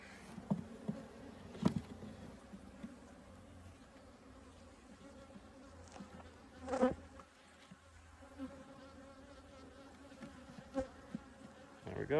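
Bees droning around beehives during a fall inspection, a quiet, steady buzz with individual insects flying close past now and then, set against a calm outdoor background.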